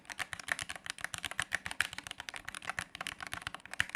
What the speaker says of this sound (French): en termes de bruit quand on appuie sur les touches, que je vais vous faire écouter juste tout de suite là.